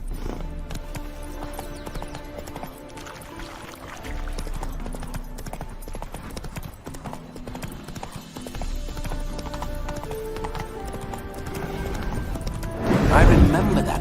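Roach, a horse in The Witcher 3, galloping with rapid rhythmic hoofbeats throughout, close and fairly loud, under game music and occasional speech.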